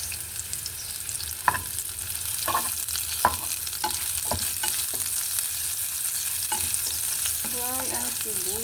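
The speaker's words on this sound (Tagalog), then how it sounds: "Fry natin yung sibuyas." Onions frying in a pan, a continuous close sizzle broken by several sharp stirring scrapes and clinks, with a faint voice near the end.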